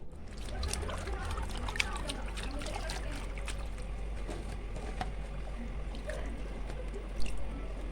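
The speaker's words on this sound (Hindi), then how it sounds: "तो इन चिप्स को धो लेते हैं अच्छी तरह से। पानी में थोड़ा सा नमक ऐड कर लें" Potato chips are washed by hand in salted water, with continuous sloshing, squishing and dripping sounds close up and steady throughout.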